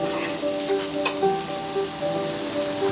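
Food sizzles on a grill in a steady, close, crackling hiss that runs the whole time, with faint tonal hum in the background and no voices.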